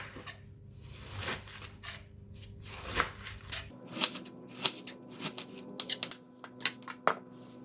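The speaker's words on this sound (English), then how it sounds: "I like to start off with cutting the cabbage" A knife slices cabbage into very small pieces for stir-fry, giving a run of quick, crisp chopping strokes at close range in an irregular rhythm, with no talking.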